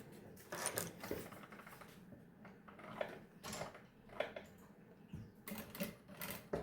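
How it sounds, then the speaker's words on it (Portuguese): A sewing machine stitches a seam on a fabric baby bag, quiet close bursts of rapid mechanical whirring separated by short pauses, with no voices. "Agora eu vou passar uma costura de um lado e do outro."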